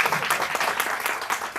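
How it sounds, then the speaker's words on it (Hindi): Audience at a memorial award ceremony and book launch breaking into dense, continuous applause, many hands clapping together close by without pause for the whole moment. "तो बहुत जोरदार तालियां बजा दीजिए।"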